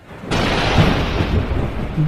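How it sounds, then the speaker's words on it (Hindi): A cartoon thunderstorm with a sudden loud thunder crack that rolls into a long, dense rumble, with a rain-like hiss steady underneath. "और बादल गरजे, साथ में बड़े बड़े ओले भी पड़ने लगे।"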